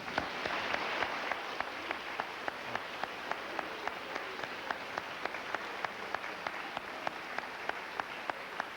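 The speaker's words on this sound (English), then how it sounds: "have the assembly please applaud and salute the class of 1988." A school assembly applauds a graduating class at a high school class day, a steady wash of clapping with a few sharper claps standing out, fairly distant and even throughout.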